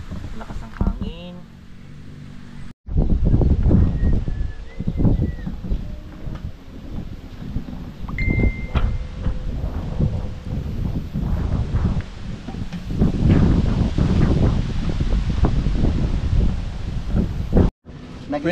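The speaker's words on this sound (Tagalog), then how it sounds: "Lakas ng hangin." Strong wind blows outdoors, buffeting the microphone with loud, rumbling gusts that rise and fall, under and between people talking.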